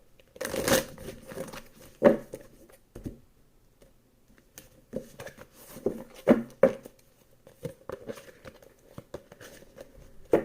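Tarot cards shuffled by hand in a quiet room, sporadic bursts of riffling and soft slapping separated by brief pauses, close and fairly faint.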